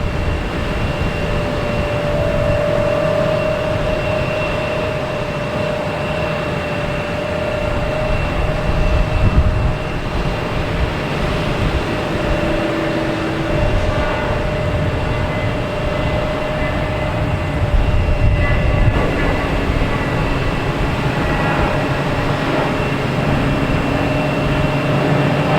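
A Porter Airlines plane approaches Boston Logan Airport, its engines a loud, steady roar that swells gently and lingers over the whole stretch with a faint whine on top, no voices heard.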